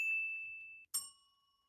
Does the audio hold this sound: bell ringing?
yes